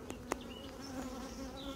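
Honey bees buzz softly while a beehive is inspected, frames of young bees and emerging brood lifted out, with a couple of faint clicks over the low, steady hum.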